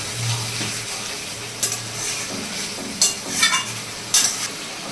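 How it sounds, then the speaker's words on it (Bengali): Meat cooking down in a pan with spices for a Bengali boiler chicken curry, stirred with a spatula: a low steady sizzle underneath with several sharp scraping and clattering strokes at irregular intervals, close by, with no talking. "ভালো করে মাংসটাকে একটু নেড়ে চেড়ে দেবো যাতে নিচে না ধরে যায়"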